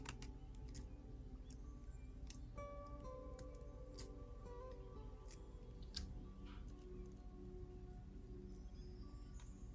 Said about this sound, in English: Let me cut off the excess.